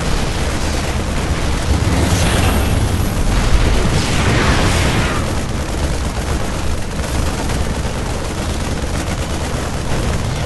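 Continuous combat in a StarCraft II Terran-versus-Terran push, with siege tanks firing: dense overlapping booms and gunfire-like blasts, loud and sustained throughout, with no speech.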